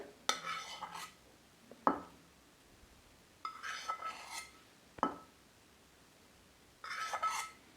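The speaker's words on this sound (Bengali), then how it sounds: "এবার এটা আমি নামিয়ে নেব একটা প্লেটে। আমি নামিয়ে রাখছি প্লেটে।" Fried eggplant for a Bengali begun bhorta is set down onto a plate in three separate bursts of clinking and scraping, each with a sharp utensil tap against the dish, quiet and close with pauses between.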